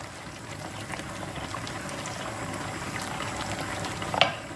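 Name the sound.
pasta water boiling in a pot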